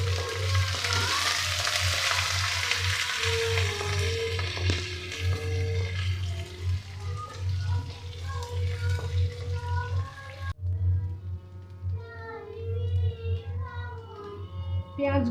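Onion pieces fry in hot oil with garam masala and bay leaf, giving a steady loud sizzle with occasional stirring scrapes, while a voice talks over it for much of the time.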